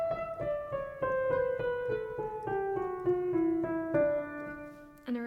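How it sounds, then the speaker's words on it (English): An electric piano retuned for a microtonal song plays a steady run of struck notes with a slowly descending line, clear and close with no voices, ending on a sharp new attack. "This is one where she retuned an electric piano to be able to play a microtonal song on it."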